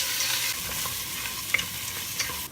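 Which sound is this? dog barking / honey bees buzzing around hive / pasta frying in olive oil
pasta frying in olive oil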